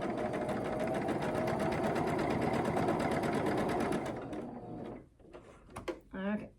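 A sewing machine runs steadily for about four seconds, stitching quilt block seams in a dense continuous whir, then stops. Brief handling noises and a voice follow.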